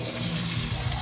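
A steady, loud broadband hiss and crackle of beans sizzling in a hot oiled pan, continuing without pause.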